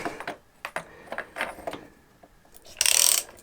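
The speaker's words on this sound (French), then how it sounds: "Est-ce qu'on peut y mettre la douille dans celle-là?" Socket wrench ratcheting while a spark plug is removed from a Honda Transalp motorcycle, a series of sharp metallic clicks and short turns close by, ending in a louder, denser grinding rattle.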